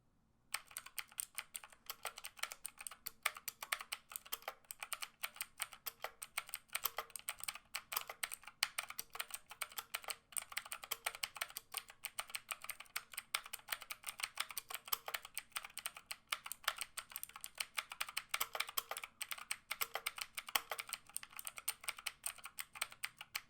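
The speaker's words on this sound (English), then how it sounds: "how does it sound with these Outemu blue switches?" Rapid, clicky keystrokes from a Tecware Phantom 104-key mechanical keyboard with Outemu blue switches patter continuously about a foot or two away, a dense stream of crisp tactile clicks with no talking.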